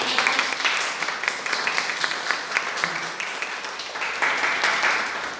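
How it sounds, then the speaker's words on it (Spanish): Applause for a classmate fills a lecture on nerve injuries and sports trauma, a steady wash of many hands clapping from a group of students, with faint voices underneath. "Un aplauso para su compañero."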